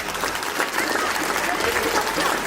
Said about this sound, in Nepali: यता फेरि ताली बजाइदिउँ त